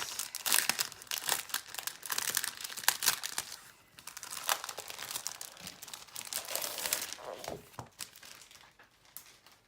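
Unwrapping a stack of Graphic45 pattern paper: loud, continuous crinkling and rustling of packaging, close by, with sharp crackles and short tearing bursts throughout and no talk.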